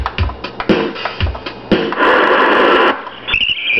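Built-in drum pad sound effects from a JVC RV-DP100 boombox: a quick run of punchy electronic hits followed by a longer noisy burst and a brighter tone at the end, loud and close with no talk.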